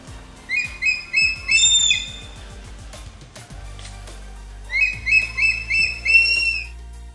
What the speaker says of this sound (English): Changeable hawk eagle.